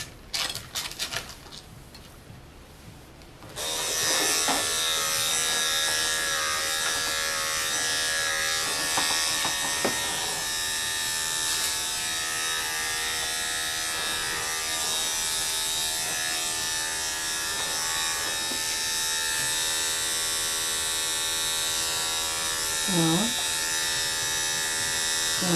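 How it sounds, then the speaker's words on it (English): An electric pet clipper buzzes steadily at close range while grooming a dog, starting a few seconds in and running continuously, with someone talking softly over it. "Tuti, don't lick the clipper."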